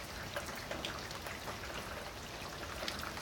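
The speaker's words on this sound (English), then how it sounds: "It's raining." Rain falling steadily in a Southern California yard, a soft, dense patter of drops striking surfaces, continuous and even with occasional slightly louder splats, faint and alone with no voices.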